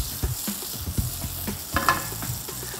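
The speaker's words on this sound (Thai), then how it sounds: "เมื่อเนยเริ่มละลายได้น้ำมันร้อนเนยร้อนเนี่ยใส่กระเทียมลงโลดเห็ดยานางิลงเลย" Butter sizzles and fries in a hot pan as garlic and yanagi mushrooms go in for a Japanese mushroom spaghetti, with a steady crackle and irregular stirring clatter close by.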